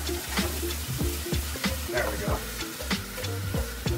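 Onions sizzle steadily in a hot pan, with repeated scraping and stirring clatters from a utensil, close up and fairly loud.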